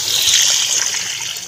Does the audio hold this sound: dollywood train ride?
no